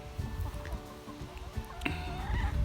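Hungry chickens cluck softly nearby in a backyard in the late afternoon, scattered low clucks and murmurs with faint background noise.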